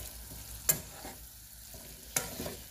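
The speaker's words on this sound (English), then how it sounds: "Give everything a good mix." A spoon stirs a pasta dish mixture in a pan, giving two sharp scraping clinks over a faint, low background sizzle.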